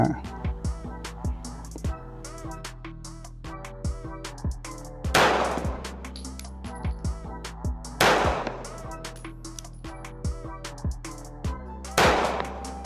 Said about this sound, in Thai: คสามนัดจบครับสไลด์ค้าง เคลียร์ปืน